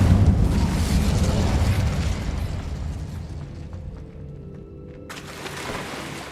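The Incendio fire spell is cast in Hogwarts Legacy, producing a loud roaring whoosh of flame that rumbles and gradually fades over several seconds, ending in a thin magical shimmer.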